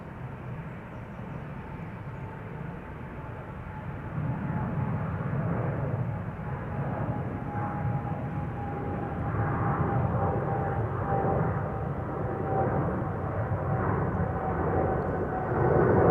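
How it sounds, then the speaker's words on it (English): A Boeing 777-300 bound for Johannesburg takes off from the center runway at Amsterdam Schiphol Airport, its jet engines a steady, distant roar that grows slightly louder and holds a thin whine throughout. "the 777-300 to Johannesburg, South Africa in the background,"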